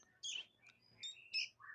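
Kutilang (sooty-headed bulbul) chicks let out a few high, thin chirps in short separate bursts, close and fairly quiet, with a low background murmur and no talking over them.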